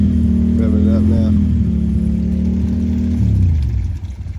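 A Honda Talon side-by-side on 4-inch portals and 38-inch tires strains to pull a truck buried to the frame. Its engine gives a loud, sustained drone close by, then drops in pitch and fades near the end.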